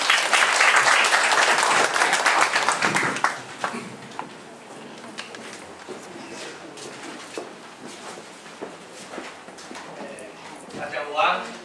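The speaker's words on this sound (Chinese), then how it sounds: "掌声欢迎廖院士。" Audience applause fills a hall as an academician is welcomed to the stage at a formal event, loud and dense for about three seconds before thinning into scattered claps under murmuring voices.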